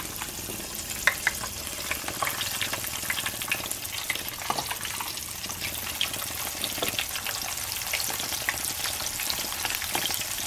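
Seasoned, floured onions fry in a pan with a steady, close sizzle broken by small crackles and pops, with no voices.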